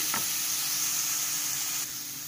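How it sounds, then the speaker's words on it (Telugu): Green chili paste sizzles steadily in a hot pan, a loud, continuous frying hiss with a brief stir near the start and a slight drop in level toward the end. "ఇది కొంచెం ఒక 2 మినిట్స్ ఫ్రై చేసుకోవాలి."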